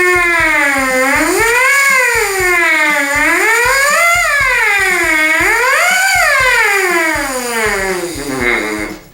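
A buzzing brass mouthpiece slides smoothly down and up in pitch, repeated siren-like sweeps rising and falling in a steady rhythm, loud and close.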